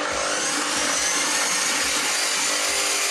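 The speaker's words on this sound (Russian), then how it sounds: "Можно взбивать на скорости повыше." An electric mixer whisks sugar into sponge cake batter, a loud, dense, continuous motor whir close by with faint low thumps, and no talking over it.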